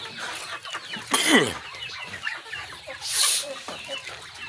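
A mother hen clucks nearby in short, irregular bursts, with two louder squawks and scattered chick peeps over a busy barnyard background.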